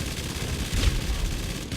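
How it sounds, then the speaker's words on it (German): A minigun in GTA Online fires one continuous, dense, loud roar of rapid shots that lasts the whole moment without a break. "Also die Minigun, die Minigun ist geil"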